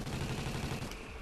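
Huge alien boss firing in Call of Duty: Ghosts Extinction, a rapid rumbling burst of gunfire-like blasts, loud and dense, with no talking.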